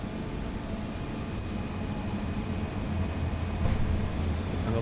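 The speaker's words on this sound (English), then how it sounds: "it's not. It's a passenger train." A passenger train rolling past in SimRail, a continuous rumble of wheels and carriages that swells slightly louder toward the end, with faint squealing and no talk.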